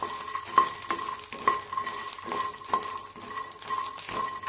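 Phool makhana snack is stirred as it fries in a pan. A constant sizzle runs beneath regular spoon scrapes and taps that come roughly every half second, heard up close without talk.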